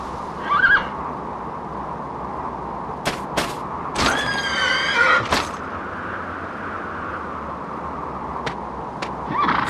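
A horse in Dragon Quest VIII gives whinnies and neighs, a short one at the start and a longer loud shaky neigh mid-way, set over a steady game ambience with brief sharp clicks scattered between.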